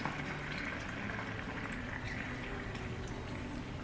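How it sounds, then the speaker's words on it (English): Well water pouring through a funnel into a homemade all-natural cleaner mixture, a continuous even splashing and trickling stream that stays steady throughout with no talking. "I'm just going to get my funnel back out and pour this water"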